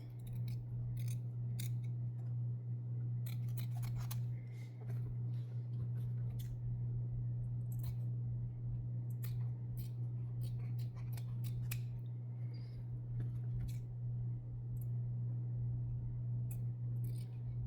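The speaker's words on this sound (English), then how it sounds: "I'm going to trim the stabilizer, being very careful not to cut the garment." Scissors snip through embroidery stabilizer on a garment in a series of irregular, close, crisp cuts over a steady low hum.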